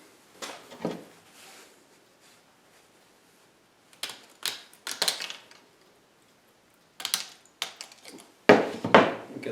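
Cutting a slice out of material to make a minnow trap, several short scraping and snipping bursts separated by quiet pauses, close and moderately loud.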